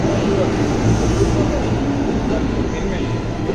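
A train pulls out of Shinagawa station in Japan, a steady low rumble and rolling clatter heard close by, even and continuous throughout.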